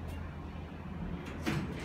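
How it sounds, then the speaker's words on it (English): A 2010 modular hydraulic service elevator's door slides shut against a steady low machinery hum, with a brief thud near the end, at a wholesale mart in Los Angeles. "We'll watch the door close."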